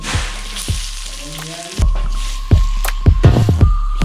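Chopped onion fries in hot oil with garlic, giving a loud, close sizzle punctuated by sharp clanks and scrapes of a utensil against the pan.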